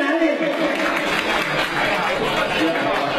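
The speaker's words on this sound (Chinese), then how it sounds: "掌声在哪里？" An audience claps continuously and densely at a school alumni association New Year gala, a short burst of steady applause with a few voices mixed in.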